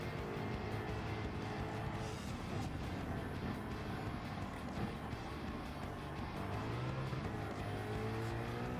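A Porsche engine drones and revs in a racing video game, a continuous mid-level whine with shifting pitch and hints of tires scrubbing, steady throughout without any speech.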